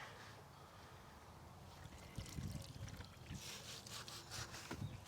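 A gravestone being scrubbed by hand with cleaner at an outdoor workshop, faint bristly brushing and wet scraping strokes that grow busier midway, with light splashes.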